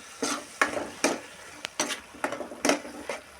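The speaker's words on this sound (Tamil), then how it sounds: "அதோட பச்சை வாசனை போகிற வரைக்கும் நல்லா கிளறிட்டு" Ginger-garlic paste is stirred into frying chicken gravy in a pan: about eight distinct scraping strokes in an uneven rhythm over a light sizzle, close and fairly loud, with no voices.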